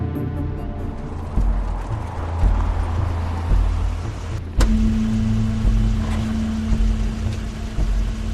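Crane's car in The Wolf Among Us, a steady engine rumble running low and continuous with a rising hum after a sharp click midway, fairly loud and alone without speech.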